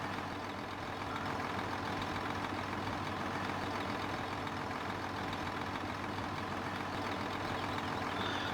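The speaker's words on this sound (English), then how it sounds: "The tractor's away again." A tractor engine in Farming Simulator 2017 drones on steadily with its PTO engaged, a low continuous rumble and hum without speech.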